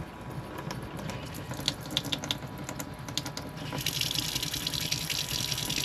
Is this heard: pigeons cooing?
no